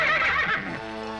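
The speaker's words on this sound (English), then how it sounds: "It was a beautiful horse grazing in the woods." A single horse neighs, a bright whinny that wavers and then trails off into a lower fading tail, close and clear with no talking.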